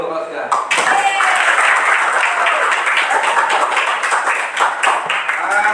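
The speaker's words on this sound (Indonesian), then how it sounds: "Oke, aplaus dulu kalau sudah." A classroom of students claps together, a dense, loud burst of applause that fills the room and holds steady for several seconds, with a few voices mixed in beneath it.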